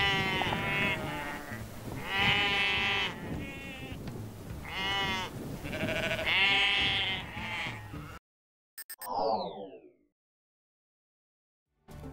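Sheep on a Patagonian farm bleat repeatedly in a chorus of wavering, overlapping calls, fairly near and loud, followed by a short quieter pause and one last brief bleat.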